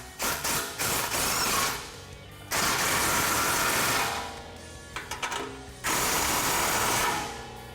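Bursts of ratcheting from a hand ratchet tightening exhaust hanger hardware on a 2017 Ford F-150 Raptor, in three long sustained runs of rapid clicking separated by short pauses, close and fairly loud.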